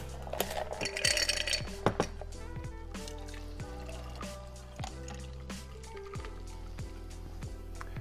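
Liquid from a French 75 gin cocktail strained over ice into a highball glass, with a brief splash and trickle, then soft ice clinks and drips over a steady background of music.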